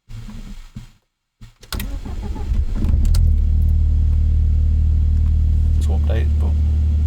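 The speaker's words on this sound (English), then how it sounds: "So now what we want to do is start the car" Audi A4 B5 Quattro with a 1.8T engine cranking and firing up, then settling into a steady, loud idle that runs on after some handling clicks and brief rustle.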